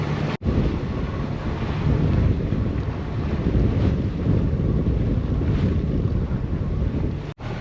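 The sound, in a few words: boat motoring slowly away from Isla Isabel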